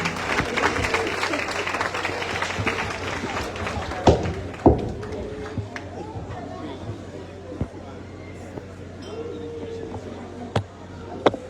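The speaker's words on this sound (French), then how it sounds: "On les applaudit." Audience applause at a dance school performance during a school's centenary celebration, a crowd clapping and cheering through the opening seconds, then fading into murmuring chatter with a few louder isolated claps.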